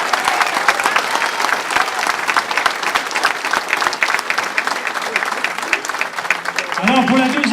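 A breakfast crowd at the Vague Humaine event gives Gino Lévesque a warm round of applause, dense continuous clapping from many people, with a voice starting to speak over it near the end.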